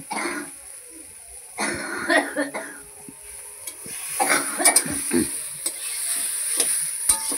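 Vegetables such as cauliflower are stirred and cooked in a pan in a home kitchen, with soft sizzling and scraping in short bursts while people talk nearby.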